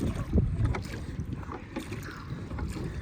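Wind buffets the microphone while a small dinghy is rowed at sea, with low rumbling gusts and faint splashes of oars in the water, steady and close, with no talk.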